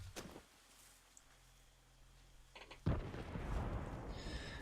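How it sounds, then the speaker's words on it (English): Distant explosions in The Culling survival game: a faint boom at the start, a quiet stretch, then a louder blast that gives way to a long rumbling, crackling wash of noise. "Explosions going off in the distance"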